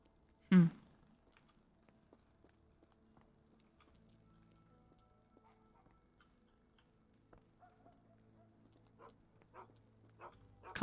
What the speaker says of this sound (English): I can hear a dog barking